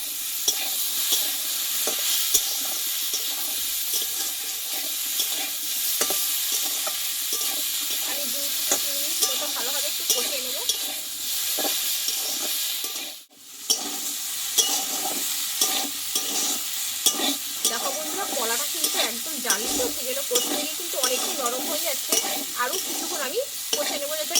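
Green banana sautéed in a pan with oil, a continuous loud sizzle with frequent spatula scrapes and stirring clatter, broken by a brief near-silent pause midway, no speech.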